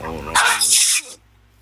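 A single sharp sneeze, a quick voiced intake followed by a bright, noisy burst, then quiet.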